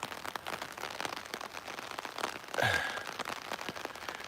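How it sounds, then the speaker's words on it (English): Steady rain falls on a warm outdoor walkway, a soft continuous patter of drops with a brief closer splash or rustle partway through. "when it's raining like this, the worms come out and they go onto the warm walkway here"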